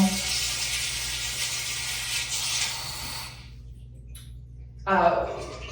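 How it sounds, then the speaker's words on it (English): Water sprays upward from beneath the seat of a bidet toilet in a renovated bathroom, a bright steady hiss that cuts off, then spurts again briefly near the end. "It has this feature where water comes up from beneath"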